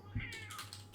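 A pet cat gives a short, faint meow beside a computer keyboard being typed on, the soft key clicks continuing around the brief call indoors.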